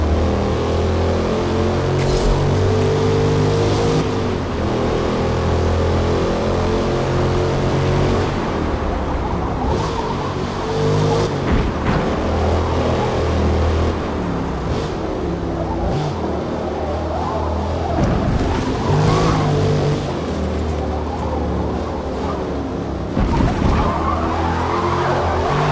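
A Mazda MX-5 racing on a banked track in Forza Motorsport, its engine droning and shifting pitch continuously while tyres squeal and skid through corners, loud and close throughout.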